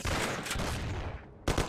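Gunfire from a parking garage shootout in Mafia rattles in a dense, loud burst, cuts to near silence, then snaps back with a couple of sharp shots.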